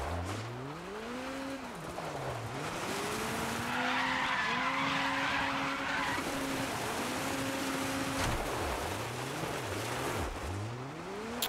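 A car in the racing game Dirt 5 drives with a steady engine drone, its pitch rising and falling through gear changes, while tires skid and slide throughout.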